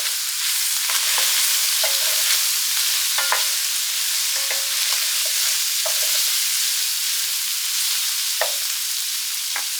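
Cajun or creole seasoning being stirred into a sizzling pan, a steady loud frying hiss throughout with repeated scraping strokes of the utensil against the pan, no voices.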